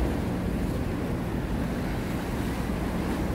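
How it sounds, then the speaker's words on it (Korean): Steady broadband wash of calm sea waves at Dongmyeong harbor, near a fish market and breakwater, with wind rumble on the microphone, continuous and fairly loud with no talking. "바다 파도도 보편적으로 잔잔한 편입니다"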